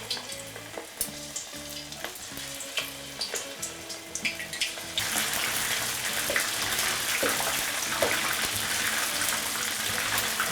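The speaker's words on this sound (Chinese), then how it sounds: "开始下这个蘑菇。" Battered mushrooms slid into oil heated to moderate temperature in a wok, a few quiet clinks and stirs giving way midway to a loud, dense, continuous deep-frying sizzle, close and steady to the end.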